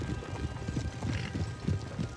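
Cavalry horses on the move in the strategy game Napoleon: Total War, with a steady patter of hoofbeats over a low rumble and background noise, fairly quiet and continuous.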